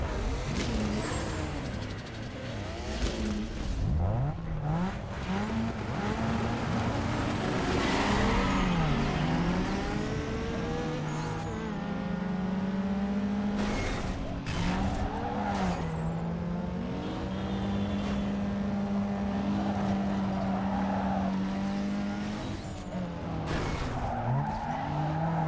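Race cars tearing around a video game circuit, engines droning and shifting pitch continuously with tire squeals and skids, loud and up close throughout with no talking.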